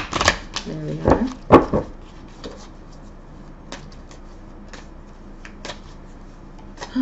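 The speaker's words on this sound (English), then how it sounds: "So I'm going to shuffle these cards." A deck of tarot cards is shuffled by hand close up, a few quick crisp riffles and snaps bunched near the start, followed by sparse soft card taps and handling in a quiet room.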